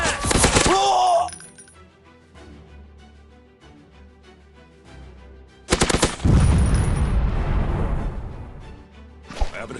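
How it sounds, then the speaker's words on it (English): Assault rifle fire in a first-person shooting video game comes in loud, rapid automatic bursts, one at the start and a longer one later, with quieter game sounds between them. "I have an assault rifle."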